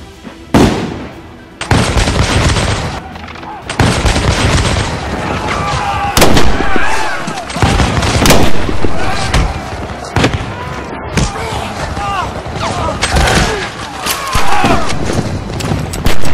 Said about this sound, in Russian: Британские солдаты среагировали моментально и открыли огонь.